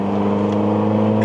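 A 1989 Honda Accord LXi coupe with 350,000 miles pulls in third gear, the engine droning steadily and rising slightly in pitch as it climbs toward 3,000 rpm, loud and close inside the car.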